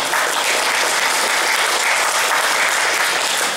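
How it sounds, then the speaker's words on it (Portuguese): Audience applause at a community gathering, a dense steady wash of many hands clapping at full volume throughout, with no voices over it. "um forte aplauso para nós."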